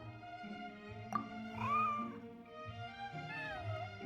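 A white, fluffy cat in the Genshin Impact video game meows twice, close and clear, over a steady looping musical background, with a longer drawn-out meow in the middle.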